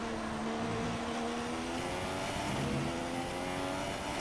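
Formula One race car engine from the F1 2016 video game, a Manor car at Melbourne, drones loudly and steadily throughout with a high whining pitch that climbs gradually as it accelerates.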